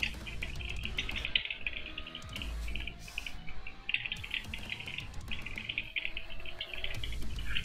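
Repeated high gull cries ring out in World of Warcraft's Maw of Souls dungeon, coming in clustered bursts with brief gaps over a constant low in-game drone.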